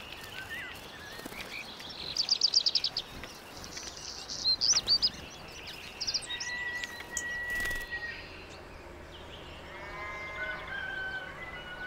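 Tits, warblers and goldfinches sing from the high branches of a countryside hedge in early spring, with bright rapid chirps and trills that come in repeated bursts over a soft outdoor background.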